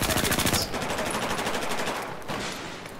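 Rapid automatic fire of frag rounds in Battlefield 4 rattles out loud and close in a dense burst, then gives way to a rumbling, decaying blast and muffled battlefield noise.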